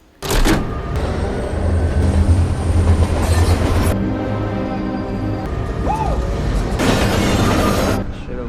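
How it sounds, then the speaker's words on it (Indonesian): A train at Raccoon City starts up and pulls away, a loud rumbling run with rattling carriage noise, metallic screeches and surges of hiss over a steady mechanical drone. "Dan mereka segera menghidupkan kereta dan meninggalkan Raccoon City."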